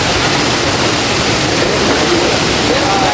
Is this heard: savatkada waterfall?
yes